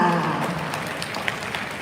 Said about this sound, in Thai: ขอเสียงปรบมือต้อนรับพี่ติ้วได้เลยค่ะ